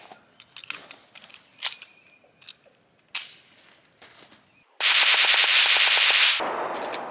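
SA 35 pistol firing, with a few scattered sharp reports and handling clicks early on, then a loud, dense burst of rapid shots lasting over a second and a half, followed by a fading ring.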